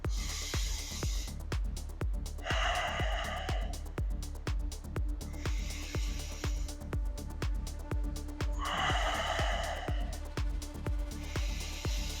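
Nasal breathing during a kettlebell Iron Cardio workout: rhythmic, forceful sniffing inhales and hissing exhales repeat close up in steady cycles, over a constant low rumble and a regular ticking pulse.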